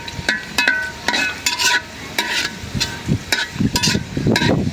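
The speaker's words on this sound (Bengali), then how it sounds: "মাছ একসাথে তেলে ভেজে দিয়ে দেই, ওঠাই নাড়াই।" Fish fry in hot oil beside a pond, where the steady sizzle is broken by repeated scraping stirs of a utensil in the pan, close and fairly loud.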